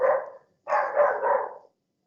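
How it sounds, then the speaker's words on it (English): A single dog barks twice at close range, a short bark followed by a longer, drawn-out one, with silence around them. "You have a dog?"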